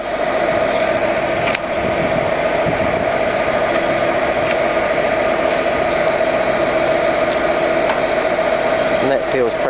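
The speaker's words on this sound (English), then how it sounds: "So I'm just putting it through its gear range there." A Harrison VS330TR variable-speed centre lathe runs steadily as it is taken through its gear range, with a continuous loud mechanical hum and whine and a few clunks of gear changes.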